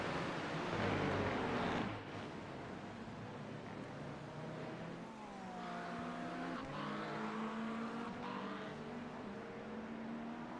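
A GT-class race car spins out at Laguna Seca in a racing video game, its engine whining and shifting pitch over a steady roar as tires squeal through the slide, with other cars running nearby.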